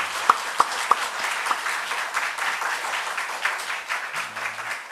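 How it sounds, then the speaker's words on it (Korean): Congregation clapping in an Easter church service, a few loud sharp claps at first growing into steady, moderately loud applause, with a low tone near the end. "우리 다 같이 함께 영광의 박수를 하나님께 다시 올려드렸으면 좋겠습니다"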